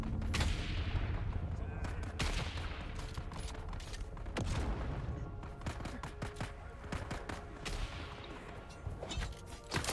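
Repeated heavy rifle shots and distant booms in the sci-fi survival game Dune Awakening, sharp cracks spaced irregularly over a constant rumbling battle backdrop, with a voice talking faintly underneath.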